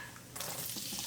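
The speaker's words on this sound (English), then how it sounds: "I'm gonna add the cumin seeds" Cumin seeds hit about three tablespoons of hot sunflower oil, a faint, brief burst of crackling sizzle that starts abruptly and continues steadily.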